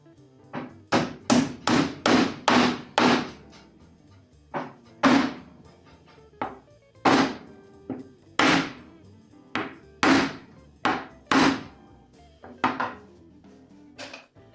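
Oak dowels hammered into a CD shelf, with a rapid burst of sharp wooden knocks followed by spaced, ringing blows in uneven rhythm, close and loud with no talking.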